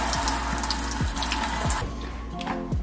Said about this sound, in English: So I'm going to just pour hot water around the sink and on the basket